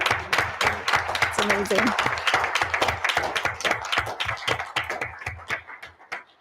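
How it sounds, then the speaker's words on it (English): Audience at a school board meeting applauds students with steady, close clapping that fades toward the end, while a voice speaks briefly over it. "First, let's applaud them."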